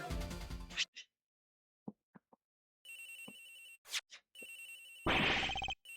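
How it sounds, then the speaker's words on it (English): A phone ringing somewhere out of sight in the game Ace Attorney Investigations, sounding in short bursts with silent gaps and brief clicks between them, with some music at the start. "Agent Hicks's phone! It's ringing from somewhere, sir."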